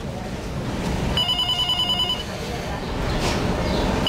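A telephone bell rings in a short electronic burst during a Cuban television drama scene, set among room sounds and faint voices.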